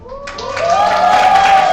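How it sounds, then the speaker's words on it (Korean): Audience applause and cheering at a book concert, rising quickly after a brief lead-in and holding loud and full, with a shouted cheer riding over the clapping. "박수와 함성 어떻게 한다고요?"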